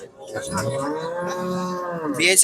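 A calf at a cattle market in Tangail, Bangladesh lets out one long, close, drawn-out moo that rises in pitch at the end, with no voices over it.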